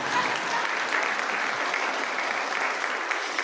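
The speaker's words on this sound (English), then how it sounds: "You may applaud." An audience at a church service breaks into continuous applause, a steady wash of many hands clapping with no pauses across the short stretch.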